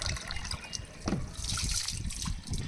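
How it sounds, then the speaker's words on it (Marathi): Water trickles from a pipe left running into a bucket, a quiet, uneven gurgle and splash that carries on throughout. "बघा असं बादलीत पाईप सोडून ठेवलं आहे"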